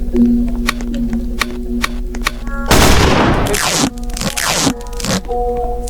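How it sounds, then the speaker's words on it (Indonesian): Gunfire in a Roblox video game bursts through rapid, loud crackling shots. A dense volley dominates the middle, while game music and scattered effects play around it. "Jangan tembak terus nanti habis pelurunya."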